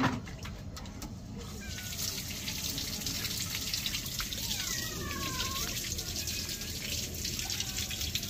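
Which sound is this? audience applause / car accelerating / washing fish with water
washing fish with water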